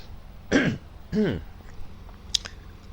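Someone clears their throat twice, close by, with a few faint clicks and small mouth noises afterward.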